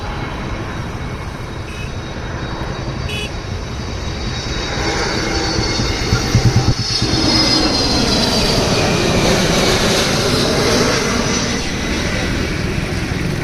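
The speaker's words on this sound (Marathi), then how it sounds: "काही तुम्हाला प्लेन दाखवतो एवढ्या जवळून जाते" A low, roaring rumble swells and passes close overhead, like a jet aircraft flying low, its broad engine noise filling the whole stretch.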